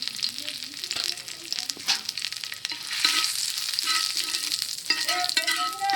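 Curry leaves and whole cumin seeds fry in oil in a wok. A continuous crackling sizzle runs near and moderately loud, broken by occasional stirring scrapes.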